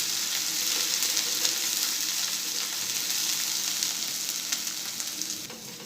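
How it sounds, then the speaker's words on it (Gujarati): Spice masala for Gujarati kadhi sautés in a pan with a steady, close hiss of frying oil and faint stirring scrapes, slowly easing off toward the end. "હવે મસાલાને આપણે અડધી મિનિટ આ રીતે સાતરી લઈશું"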